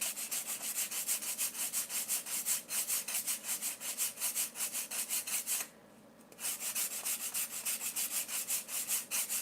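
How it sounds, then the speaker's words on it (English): Sanding block rubbed over a foam-core model wing down to the foam, giving steady back-and-forth scratchy strokes in a quick even rhythm, close and continuous, with a short pause partway through. "we're going to sand to the foam"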